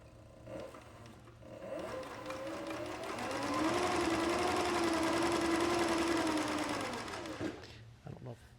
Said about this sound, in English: we'll just run a pretty good amount of thread out of here just to test and see if it seemed like it's going to feed okay